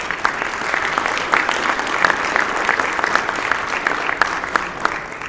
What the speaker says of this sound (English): So we'll give a special reserve a round of applause.